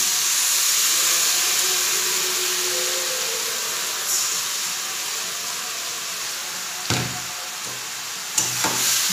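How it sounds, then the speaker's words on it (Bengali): Marinated chicken sizzles loudly in a frying pan with onions and capsicum, a strong steady hiss that slowly eases, broken near the end by a few sharp clanks of a utensil against the pan. "এবার এর মধ্যে আমি এই ম্যারিনেট করা চিকেনটা দিয়ে দিই।"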